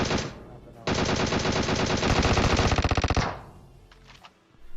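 Automatic gunfire in PUBG Mobile: a short burst, then a longer rapid stream of shots lasting about two seconds, loud and close, fading into quieter background noise afterward.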